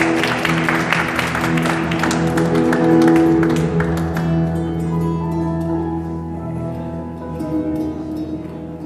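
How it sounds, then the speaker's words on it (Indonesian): An audience applauding at an evening gathering in Hamburg, sustained dense clapping that swells and then gradually thins out, with faint voices underneath. "kita berikan tepuk tangan yang meriah kepada perwakilan"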